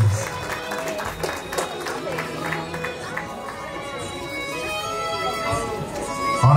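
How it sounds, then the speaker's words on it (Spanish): Guests applauding at a quinceañera celebration, a loud crowd ovation that stays steady throughout, with music and voices mixed underneath. "Vamos a darles un fuerte aplauso, por favor, que se escuche a las madrinas de zapatillas."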